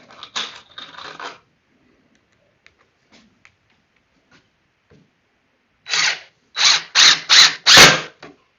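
A power drill drives a 2.5-inch screw into wood for a train table, coming as five loud, close bursts of whirring in quick succession after a few seconds of near silence.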